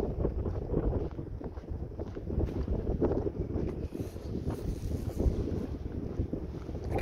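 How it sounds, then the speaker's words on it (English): Steady wind rushing and buffeting the microphone at a lakeside campsite with a boat slip, a continuous low roar without a break. "Like I said, tad windy"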